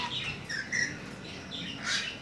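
Papuan lory parrots give several harsh, bright squawks in bursts, fairly close but moderately quiet, with faint background noise and no talking.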